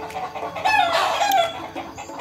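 Chickens cluck and a rooster calls on a farm, with newly hatched chicks nearby; several overlapping bird calls rise and fall, fairly close and steady, with no talking.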